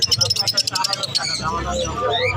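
Lovebirds at Mirpur bird market chirp in quick, shrill bursts at close range, a busy run of calls with a faint low rumble of market noise underneath.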